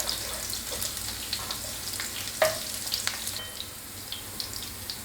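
Garlic frying in a pan for Thai scrambled eggs, a steady soft sizzle with scattered crackles and one sharper pop partway through, no talking.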